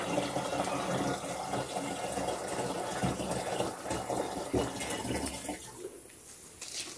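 Water gushes steadily into a container, a broad rushing splash that eases and thins toward the end, with no voices.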